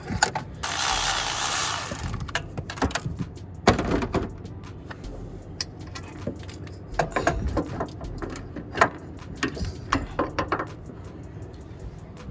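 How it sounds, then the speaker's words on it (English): A ratchet works loose a tight bolt on a mechanical fuel pump during replacement, with clicking pawl bursts, metallic taps and tool clatter close by, no speech. "Take the one bolt out. Tight, let's loosen it up."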